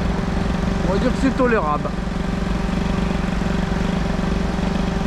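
A Peugeot 103 moped with a boosted stock Doppler setup idles steadily after carburetor tuning, a loud continuous putter running the whole time while someone talks briefly over it.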